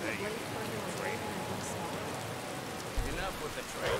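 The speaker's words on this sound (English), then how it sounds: "No, it's raining." Steady rain in the video game Wildlander, a soft even hiss of falling drops heard at moderate distance, with occasional faint speech mixed in.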